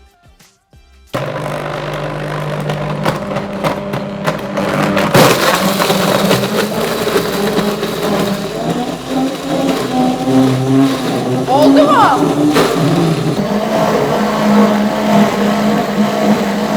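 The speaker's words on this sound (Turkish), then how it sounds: "Makinede bir zorlanma sesi var." A kitchen machine's motor runs loud and steady, grinding and straining for many seconds while making a forest-fruit frozen dessert, as people talk over it.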